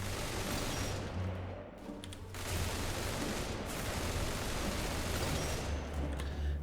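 Sustained automatic gunfire from a custom weapon build in a shooter video game, a continuous dense rattle of shots with a brief dip partway through, moderately loud and unbroken by talk.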